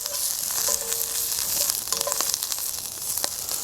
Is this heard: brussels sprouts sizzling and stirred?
yes